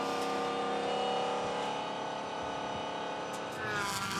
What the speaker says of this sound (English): The sound of straight cut gears.